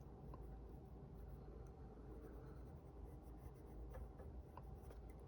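A colored pencil shades steadily across paper, a soft continuous scratchy rub close up and quiet, with no voice heard.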